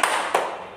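Two girls clap hands together with a partner during a dance demonstration, two sharp claps about a third of a second apart, close and clear.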